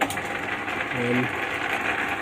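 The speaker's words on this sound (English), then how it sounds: "I'll fire up the lathe" A metal lathe turning Morris Minor wheel parts runs with a steady, fairly loud mechanical drone and whine, and a brief tonal hum rises partway through.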